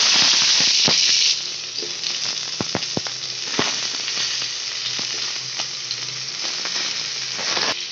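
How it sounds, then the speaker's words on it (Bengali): Cauliflower and potato fry in the oil left over from frying fish, giving a loud, steady sizzle with scattered sharp pops and crackles throughout, louder at the start and then settling to a constant hiss. "তো ওই তেলে এবার আমি ফুলকপি আলুটা ভেজে নেব।"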